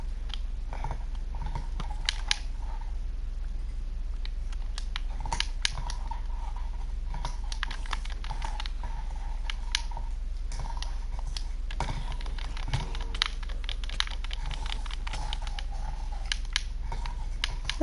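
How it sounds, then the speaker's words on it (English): A dog chews a rubber toy nearby, giving scattered faint creaks and squeaks over a steady low hum, irregular and intermittent throughout. "That's the dog next to me chewing on a toy."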